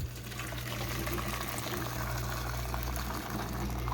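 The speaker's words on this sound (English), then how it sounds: "I'm going to pour it in for my lids and my rings." Hot water poured over canning lids and rings while canning pineapple in a home kitchen, a steady continuous splashing pour at close range with a low hum underneath, no talking.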